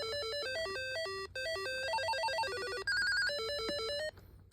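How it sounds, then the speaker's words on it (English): A weather radio's melodic electronic ringtone plays close by, bright synthesized notes in a quick repeating tune that shifts pattern before cutting off. "you can change the ringtone if you want to"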